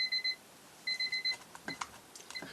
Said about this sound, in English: Sorry, that's my timer from the last video.